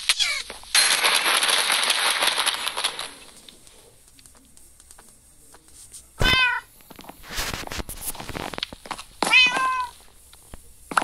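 Cats in the video game Minecraft let out two short, clear meows a few seconds apart, with a burst of pattering noise earlier and quieter gaps between.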